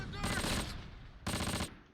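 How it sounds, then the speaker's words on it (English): Two short bursts of rifle fire from a World War II Close Combat battle near Tirepied, each a dense crackle of rapid shots lasting about half a second, loud and close with a brief gap between them. "we are taking more rifle fire from the west"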